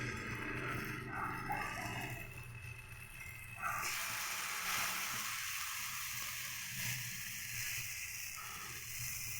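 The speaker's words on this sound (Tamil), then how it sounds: "எண்ணெய் நல்லா சூடாகிடுச்சு. வாழைக்காய் வச்சிடலாம்." Raw plantain slices frying in hot oil in a home kitchen, giving a steady, dense sizzle and hiss that grows brighter partway through, with no talking.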